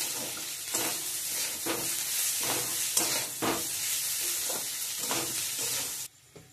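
Chowmein ingredients fry in a pan with a constant loud sizzle, overlaid by repeated scraping stir strokes at an irregular rhythm, close up and with no talk, the hiss dropping off sharply near the end.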